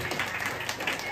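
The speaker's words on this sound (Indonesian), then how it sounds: "kita berikan tepuk tangan yang meriah" Applause from the crowd at a community anti-drug outreach meeting in Bekasi, a brief, dense patter of clapping in a room.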